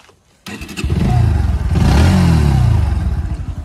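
A Bajaj Pulsar NS 125 motorcycle fires up with an abrupt start, then its exhaust revs up and down in loud, close swells before dropping back toward idle.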